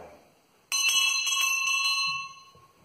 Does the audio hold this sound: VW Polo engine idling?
no